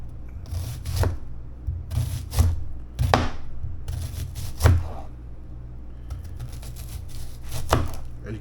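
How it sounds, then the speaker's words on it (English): A knife chops an onion on a board during stew preparation, with repeated sharp chopping strikes in uneven bursts of close thuds and a steady low hum underneath. "Another onion here. I might as well cut you up too."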